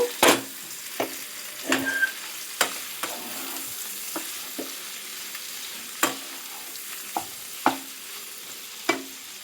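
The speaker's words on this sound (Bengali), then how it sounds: "একটু নাড়িয়ে চাড়িয়ে নেব।" A spatula scrapes and taps through shukto spice paste frying in a pan, with a low steady sizzle under sharp, irregular clinks and strokes, close and without talk.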